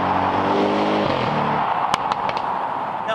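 Car with a 4-liter twin-turbocharged V8 accelerating hard: loud rising engine roar that breaks into sharp crackling pops and bangs from the exhaust, close by and without talk.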